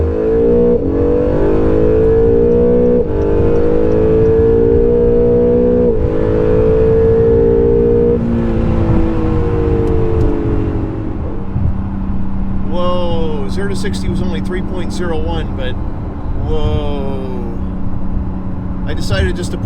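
An Acura NSX on all-season tires launches hard on a quarter-mile run, its engine note climbing steadily in pitch through the gears, loud and close from inside the cabin, with voices talking over it toward the end.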